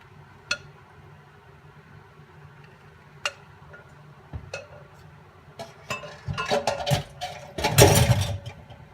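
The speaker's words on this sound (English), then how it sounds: "Sorry about the noise in my sink there." Light clinks and clatters of items in a kitchen sink during cold-process soap making, a few isolated taps at first, then a louder, busier jumble of knocks near the end, close by, with no talking.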